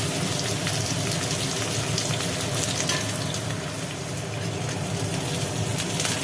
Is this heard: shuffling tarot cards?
no